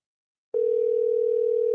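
A telephone ringing tone sounds while calling someone back, a steady continuous pitched tone starting abruptly after silence and holding loud and clear, with no talk over it.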